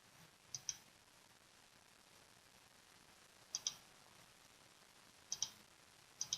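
A computer mouse clicks sharply in quick pairs, double-click style, spaced a few seconds apart against a faint, steady background hiss.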